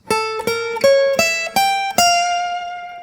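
Electric guitar blues lick in a minor blues, six sharply picked notes climbing through a diminished passing chord at a steady pace, the last note left to ring and fade.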